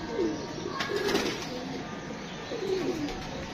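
Domestic pigeons cooing softly in a loft, three low rolling coos with faint wing flutters against steady background noise, fairly close and with no talking.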